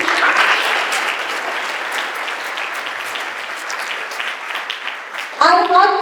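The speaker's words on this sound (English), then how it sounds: "A round of applause for my students." Sustained applause from a school audience at a student council investiture ceremony, dense and steady for about five seconds before a voice begins speaking near the end.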